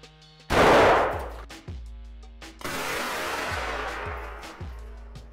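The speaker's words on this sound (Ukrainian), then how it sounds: "Будемо стріляти дроб'ю номер 7 BP Magnum 42 грами з Benelli M4" A single loud, close blast from a Benelli M4 shotgun firing 42-gram No. 7 birdshot, with a sharp crack and rumbling decay, followed by clattering and lingering noise.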